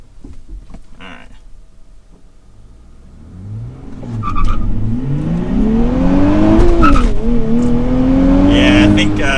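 A 2023 Nissan Z with a manual gearbox launches hard and accelerates, the engine note climbing steadily through the revs with a shift dip, growing loud and sustained.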